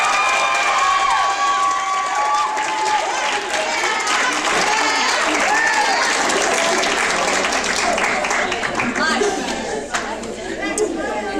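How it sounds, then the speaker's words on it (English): A school audience at a spring event claps and cheers for performers, a loud, sustained wash of applause with whoops, chatter and children's shouts mixed in throughout. "So one more round of applause for these guys."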